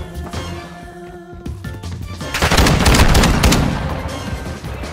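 Call of Duty gunfire from the KV Broadside shotgun, a dense burst of loud blasts building over a couple of seconds amid in-game sound, with no speech.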